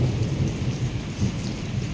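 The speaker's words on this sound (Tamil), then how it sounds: "நல்ல இடி" Thunder rumbles low and heavy through steady, loud heavy rain during a storm in Qatar, filling the short stretch with a continuous roar and no voices.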